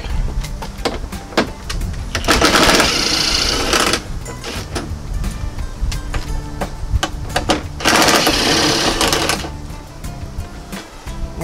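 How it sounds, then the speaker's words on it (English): An impact driver set to its lowest setting removes T40 Torx screws from a Polaris off-road vehicle's dash. It fires in two loud, close bursts of about a second and a half each, separated by quieter handling noise. "Make sure my impact driver is on its lowest setting."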